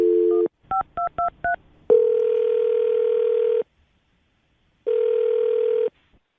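A landline phone plays a short steady tone, then a quick run of four touch-tone dialing beeps, followed by two long ringback tones separated by silence.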